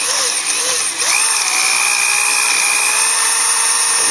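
A power drill with a big bit bores into a wooden motor mount, its steady high whine holding at medium speed and rising in pitch once the bit bites, loud and close with no talk.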